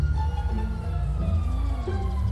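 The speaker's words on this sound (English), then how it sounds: "I hear sirens." Police sirens in the video game GTA 5 wail continuously at a moderate level with a rising and falling pitch over a steady low engine hum.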